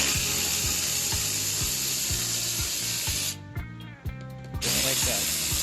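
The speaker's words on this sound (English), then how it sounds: "you're gonna need the ratchet or any manual ratchet that has an 8 mil deep socket or shallow socket" Manual ratchet with an 8 mm socket loosening grille bolts on a 2019 Dodge Ram 1500, a close run of regular rhythmic clicks over a constant background hum, briefly quieter in the middle.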